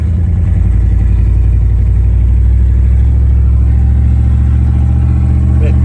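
A Chevrolet Silverado pickup fitted with Flowtech headers and showing an exhaust leak runs close and loud, its engine holding a deep, steady droning rumble throughout.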